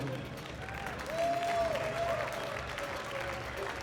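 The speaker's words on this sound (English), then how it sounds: "You may applaud." An audience at a demoscene party award ceremony applauds a winner, a soft, steady wash of clapping heard from a distance, with a faint voice and tone over it.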